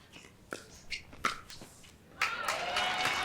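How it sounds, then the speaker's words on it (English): Spectators at a pickleball match at the US Open Pickleball Championships break into applause after a few sharp isolated sounds. The clapping is moderate and steady and builds toward the end. "Got some applause for that."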